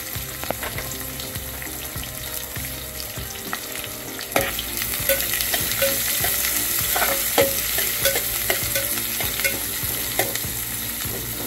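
Large square-cut onion pieces frying in a pan for spicy Nagpuri dal kanda, with a loud continuous sizzle and frequent close clinks and scrapes of a spoon stirring throughout.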